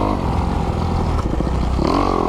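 A 2021 Kawasaki KX 250X dirt bike rides through the desert, its engine buzzing loud and steady with a rising rev near the end.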